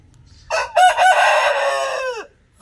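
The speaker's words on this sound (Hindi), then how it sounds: "ये जी माशाल्लाह जी जैन भाई का पहला मुर्गा है" An Aseel rooster gives a single loud, close crow lasting about two seconds, starting with a short rising note and ending in a long drawn-out call that drops away.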